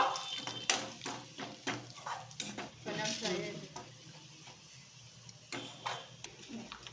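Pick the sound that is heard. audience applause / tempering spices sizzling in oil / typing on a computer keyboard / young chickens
tempering spices sizzling in oil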